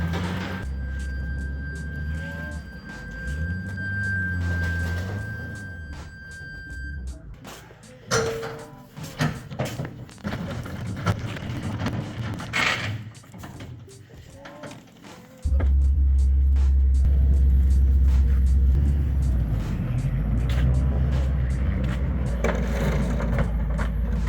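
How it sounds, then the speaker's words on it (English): A truck backs a trailer into a warehouse, its engine and mechanical rattles and creaks carrying through, ending in a loud steady low engine rumble close by. "But for now we're just going to get the trailer in."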